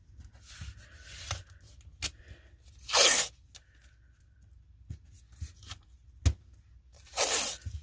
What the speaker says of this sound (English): I'm taping it down to the board or my mat